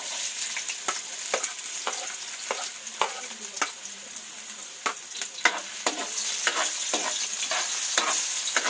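Ginger sautéing in a hot pan for kinunot, a steady sizzle with repeated sharp scrapes and taps of a spatula stirring, close and fairly loud throughout, with no voices.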